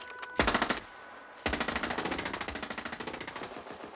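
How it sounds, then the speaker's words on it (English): Owen submachine gun from World War II firing in two bursts: a short rapid burst, a pause, then a longer steady stream of loud, close automatic shots. "The Owen Submachine Gun."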